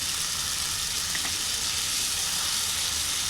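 Coriander, cumin and ginger paste fry in hot oil in a steady, loud, unbroken sizzle, heard close up with no voices.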